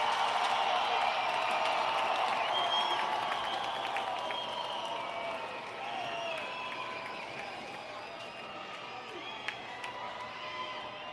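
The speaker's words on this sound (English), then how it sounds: "Richmond crowd making a little noise" Crowd noise at a Richmond minor-league baseball game, a steady distant roar of cheering and clapping from the stands that holds throughout, lightly dipping partway, with no clear talk on top.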